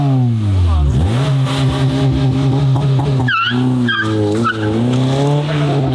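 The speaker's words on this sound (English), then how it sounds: "You ever seen two-step on an NA, bro? Do it again." A McLaren race car with a naturally aspirated engine bangs repeatedly against its two-step launch limiter, loud and close, rising and stuttering with pops over about six seconds.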